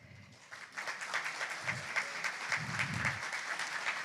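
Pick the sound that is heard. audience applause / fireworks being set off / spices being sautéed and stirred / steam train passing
audience applause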